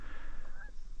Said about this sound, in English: there's another goose over there.